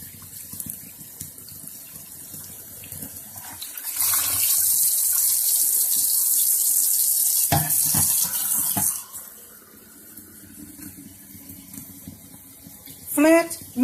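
Tap water gushes steadily into a clear cup for several seconds, a bright rushing pour set against quiet room noise, with faint sounds of handling before and after.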